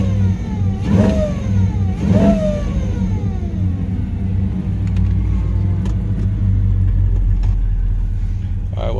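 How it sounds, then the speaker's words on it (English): A supercharged LT4 V8 swapped into a 1970 Cutlass revs hard twice in quick succession, each blip rising and falling, then settles into a loud, steady rumbling idle with faint speech at times. "that supercharged sound,"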